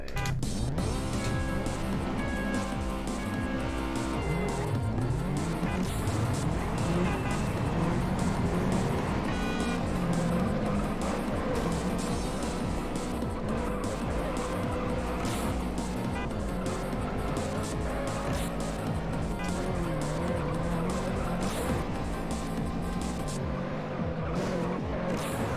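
A Honda CRX races in the video game Juiced, its engine droning loudly and continuously with revving, gear-shift pitch sweeps and tire squeal, under dense game sound.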